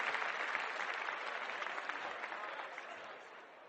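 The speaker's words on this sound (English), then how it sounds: "Basil jumped to his feet and applauded." A short burst of theatre-audience applause, a dense, steady clapping that fades slightly over a few seconds, heard alone with no voices.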